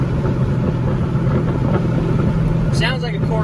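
A straight-piped Corvette Z06 cruises with a deep, rumbling exhaust burble, loud and close, with talking over it throughout.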